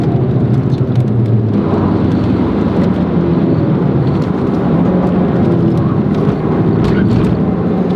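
Heavy, continuous engine roar from inside a Ford Focus RS lapping the Nürburgring GP circuit, loud and close, with rumbling low tones and wind noise.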